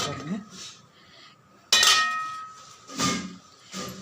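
Metal clinks and a sharp clank as a pot is set into an idli steamer, with a few scattered lighter knocks of cookware around it.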